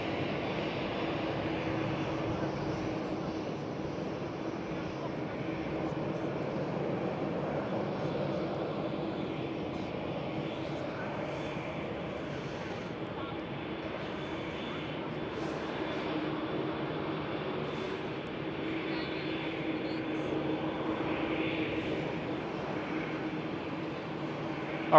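A Silk Way West Boeing 777 freighter at Amsterdam Schiphol gives a steady, moderate engine rumble heard from a distance, constant throughout.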